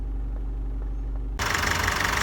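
A Honda Accord 2.2 i-DTEC diesel engine idles with a steady low rumble, then abruptly gets much louder and harsher, as if heard up close.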